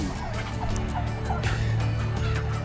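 Turkeys gobble and call on a farm, several overlapping gobbles over a steady outdoor background with a low engine-like hum underneath, no talking.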